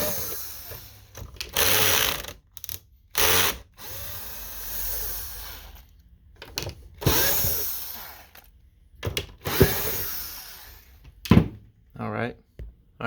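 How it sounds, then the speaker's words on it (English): Four top screws being backed out of an Xbox Series X console with a power driver, heard as several separate bursts of whirring with short gaps between them, loud and close, with speech in between. "on top here, you're going to have 4 screws right here, here, here, and here. So we're going to go ahead and take those off really quick"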